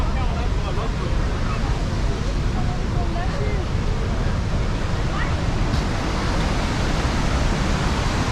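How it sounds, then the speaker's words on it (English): The waterfall at Quebec City, heard from near its top, gives a loud, constant, broadband roar that fills the whole stretch. Faint voices may sit beneath it. "This is the top of the waterfall, which you can go and visit and click some pictures."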